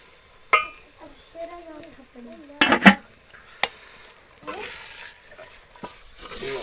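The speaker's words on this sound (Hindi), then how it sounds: "जी हमने साग इसके अंदर डाल दिया है, तो अब इसको तकरीबन मज़ीद इसको 5-6 मिनट के लिए इसको मज़ीद पकाते हैं" Saag greens fry in a pan on a home stove, with sharp spoon scrapes and knocks against the metal over a low, steady sizzle.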